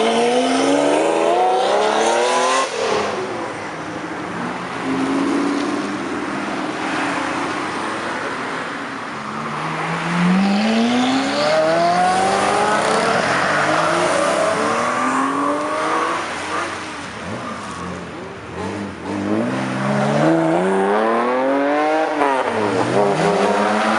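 A supercar drives off and crashes, its engine revving and rising in pitch through several sweeps of acceleration, with tire noise and a harsh, loud roar throughout.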